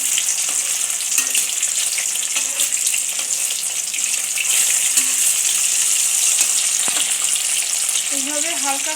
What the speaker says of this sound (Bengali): এইভাবে হালকা করে এপিট ওপিট করে একটু ভেজে নেব।